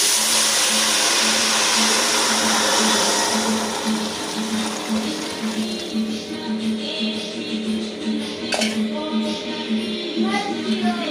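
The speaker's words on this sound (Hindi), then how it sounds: "तो इसके बाद ये पानी मैंने गर्म रख दिया था और ये पानी जाएगा इसके अंदर।" Hot water is poured into a pot holding cardamom and fennel, producing a sustained rushing, bubbling pour that eases off slightly in the second half, with a faint hum underneath.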